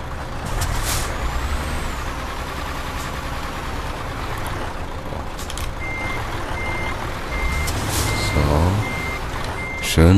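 Truck reversing into a parking spot in Euro Truck Simulator 2, with steady engine rumble, evenly spaced reversing beeps in the second half and sharp air brake hisses, close and loud.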